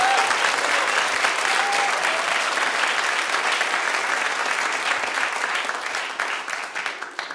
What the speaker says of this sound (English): I think that deserves a bit of a round of applause